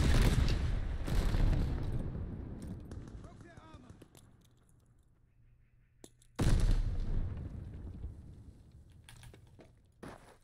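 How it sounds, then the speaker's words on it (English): A stun grenade goes off in Call of Duty: Vanguard multiplayer with two sharp, loud bursts that decay slowly, one near the start and another about six seconds later, while players talk. "Throwing stun grenade!"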